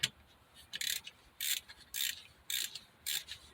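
Ratchet working on exhaust gasket bolts during a gasket replacement, tightened in a star pattern: five or six quick bursts of bright clicking, each about a third of a second long, spaced roughly evenly with short pauses between them and no talking.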